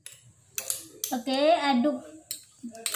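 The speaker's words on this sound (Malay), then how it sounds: "aduk bahan ini. Oke, aduk elok-elok. Oke, kita aduk." A spoon stirs ingredients and hot water in a glass, giving several close, light clinks and scrapes in short bursts, with a brief vocal sound in the middle.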